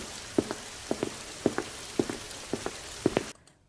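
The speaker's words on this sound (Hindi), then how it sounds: "थोड़ी देर में देखते देखते भयंकर बारिश शुरू हो जाती है।" Heavy monsoon rain in a village, steady patter with evenly spaced heavier drops tapping a surface, fairly close and alone, cutting off abruptly near the end.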